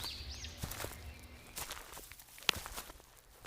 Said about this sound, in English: I walked up to her door.